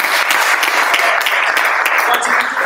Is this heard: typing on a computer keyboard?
no